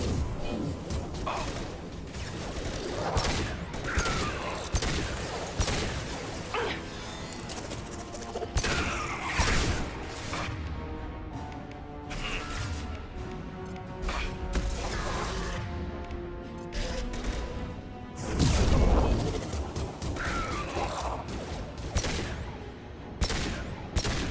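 Weapons fire in a Mass Effect 2 battle aboard the Collector ship, with repeated sharp bursts and crashes running through a dense, continuous game soundscape of music and effects.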